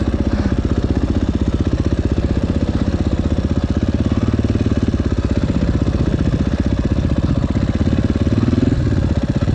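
A Husqvarna 450 FE motorcycle's single-cylinder engine runs close by at low revs, a loud, rapid, evenly pulsing putter that stays steady throughout with no talk.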